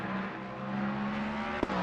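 A Ford Mustang GT3 race car in Assetto Corsa Competizione, heard at Monza, drones with a steady engine note under track noise, with one brief sharp click near the end.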